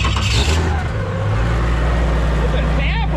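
A turbocharged Barra engine fitted in a boat runs loud and steady at idle with a deep low rumble throughout, close up, and voices are heard over it.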